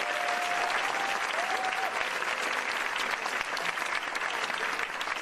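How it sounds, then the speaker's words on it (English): Sustained applause from a sizable audience at a political debate, a dense steady wash of clapping that continues at full strength throughout. "co-moderators, Elise Body and Michael Hill, a round of applause."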